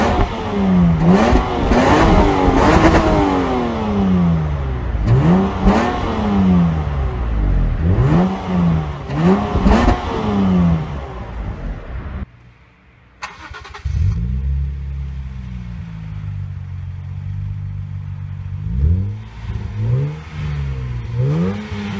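A Lexus IS200/300 fitted with an aftermarket rear muffler revs loudly and close, climbing and falling again and again in sharp bursts. After a brief drop it settles into lower, steadier revving.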